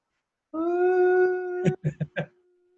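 A human voice imitating a pet dog howling, one long wavering sustained howl followed by three short yelping barks, close and loud against silence.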